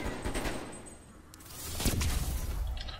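Gunfire in Cold War Zombies on the Die Machine map, fairly faint bursts of rattling shots and sharp cracks, swelling louder toward the end.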